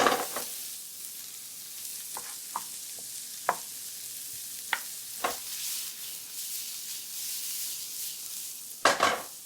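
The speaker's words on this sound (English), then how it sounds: "First, we're going to start off with just sauteing these onions up." Onions sauteing in a pan, seasoned with salt and fresh ground pepper, with a soft continuous sizzle broken by occasional scrapes and clinks of a spoon stirring, nearby and fairly quiet.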